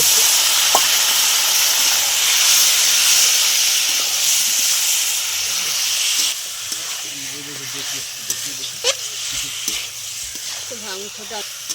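Chicken with Kashmiri red chili fries in a pan, giving a loud, steady hiss and sizzle that eases slightly midway, with occasional stirring clinks and faint movement, and no voice heard.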